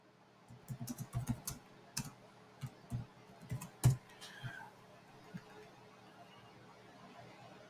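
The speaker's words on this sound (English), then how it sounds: "Let me type up one thing" Quiet clicking of fingers typing on a computer keyboard, irregular bursts of keystrokes with short pauses and one firmer tap, heard close in a calm indoor room.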